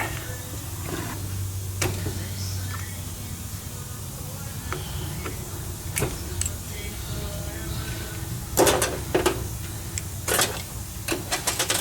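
Parts of a worn Yamaha shock absorber's seal head being taken apart: scattered metallic clicks and light taps over a steady low hum, with a cluster of sharper, louder clacks near the end.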